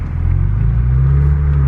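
A BMW E36 M3 coupe with a 5-speed manual pulls away from a stop sign, its engine giving a steady, loud, close low rumble that builds slightly as it accelerates.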